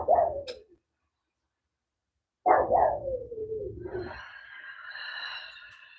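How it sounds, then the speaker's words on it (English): A dog barks twice in a row, then gives a longer drawn-out howling whine that rises in pitch, fairly close and alone with no talk over it. "The dog is serenading us right now."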